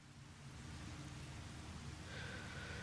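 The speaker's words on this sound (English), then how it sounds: "Oh, it's raining again." Steady rain in the humid valley of the video game Demon's Souls, a soft, continuous hiss of falling water with faint low rumble, evenly sustained and fairly quiet throughout.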